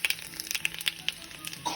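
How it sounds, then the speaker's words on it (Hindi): Asafoetida and cumin crackle in hot ghee over high heat in an open pan for a tadka, giving a steady close sizzle with quick popping spits throughout. "ये डाल दी हींग. वाह, ये तड़का बन रहा है."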